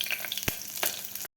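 Green chilies dropped into hot oil for pulao, a brief close crackling sizzle with a couple of sharp spits before a sudden cutoff.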